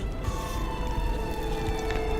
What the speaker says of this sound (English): ambulance sound going.